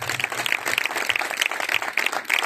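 A church congregation claps loudly together, a dense, steady patter of many hands close by that fills the whole moment without pause.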